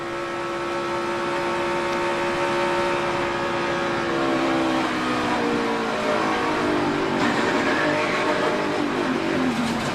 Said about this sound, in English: you hear it on board with Austin Dillon. He even downshifted